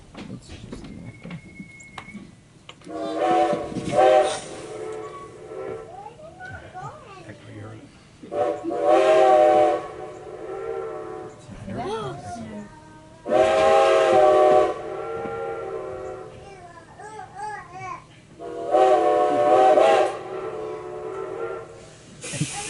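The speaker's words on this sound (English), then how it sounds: "we'll see if that ghost's whistle will answer our very own whistle today" Several long, loud steam locomotive whistle blasts on the Strasburg Rail Road sound at intervals, each a rich harmonic chord, separated by quieter hissing and low rumble.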